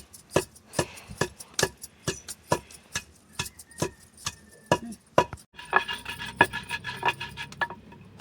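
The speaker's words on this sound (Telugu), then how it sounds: "జీలకర్ర మెంతులను ఇట్లా మంచిగా నూరుకోవాలి నేనైతే రోల్లో నూరుతానా" Cumin and fenugreek seeds are pounded in a stone mortar, giving a run of sharp, regular knocks about twice a second, close and clear, turning into quicker, busier grinding strikes near the end.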